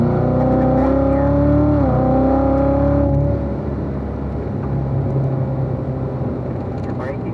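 A Corvette Z06 on a race track revs high and steady, its engine note dipping through a downshift before settling into a lower, rougher drone as the car pulls out of a corner.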